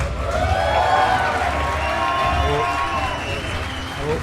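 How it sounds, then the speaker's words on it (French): Audience applause and crowd noise at an awards gala, a steady wash of clapping with a few voices and cheers rising over it, loud and close for about four seconds. "On peut l'applaudir."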